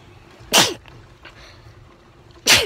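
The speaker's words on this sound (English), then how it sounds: "I had to sneeze." Two sharp sneezes, about two seconds apart, loud and close, with quiet background between them.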